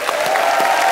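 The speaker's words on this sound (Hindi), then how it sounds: "जोरदार तालियां" Studio audience at a comedy talk show breaks into applause, a brief loud burst of dense clapping.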